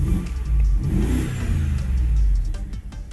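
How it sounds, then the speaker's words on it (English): A car engine, recently treated with K-Seal for a leak, revs up hard and settles back into a steady idle. The revving is close and loud throughout, with no talking. "Give it a little bit of rev."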